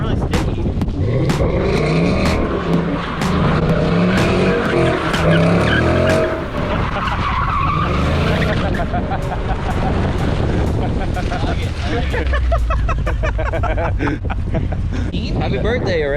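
Car tires screech and skid in long, loud squeals as a Mustang GT slides, engine noise rising and falling underneath.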